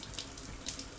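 A shower runs in the space-colony game Stationeers, a brief steady hiss of falling water with faint splashy bursts, close and alone.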